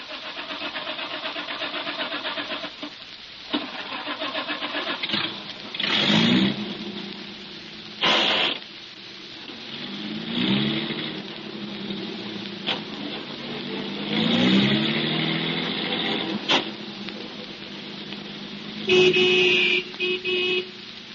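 A car engine cranks and starts, then revs through several surging bursts as it pulls away in an old-time radio drama, loud and close with no voices over it.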